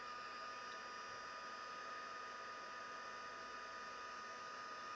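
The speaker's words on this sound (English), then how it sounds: "So excuse the heat tool, doesn't take long." Steady hiss and whoosh of an electric heat tool blowing hot air to melt clear embossing powder on card, even and unbroken from start to finish at moderate level.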